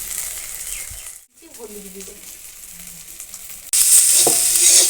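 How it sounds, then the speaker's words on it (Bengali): Spices with ginger and cumin fry in hot oil for a raw tomato masoor dal, with faint stirring at first and then a loud, close sizzle that bursts in suddenly and hisses steadily to the end. "মশলাটা দিয়ে আমি একটু ভেজে নেব"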